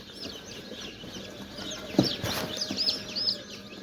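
Day-old chicks chirp in a cluster while being sorted by sex, a busy chorus of high, thin peeps with a brief louder handling noise midway, close and fairly quiet.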